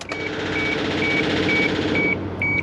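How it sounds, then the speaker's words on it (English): A car's electric fuel pump running with key on, engine off: a steady, fairly loud electric whine drones continuously, with a faint high-pitched tone pulsing at regular intervals over it. "I should hear a fuel pump"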